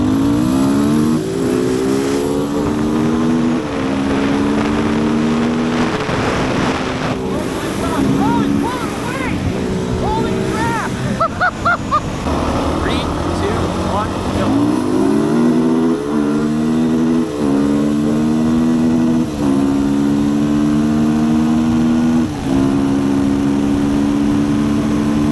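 A Kove 450 Rally motorcycle revs hard and accelerates through rising gear changes during a race, loud and close, with a second engine audible alongside and brief talk mixed in.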